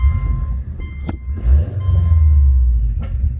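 A 2005 Subaru Legacy GT Limited pulling up, its engine rumbling low and close, swelling in the second half as the car rolls forward, with faint clicks and a steady background tone.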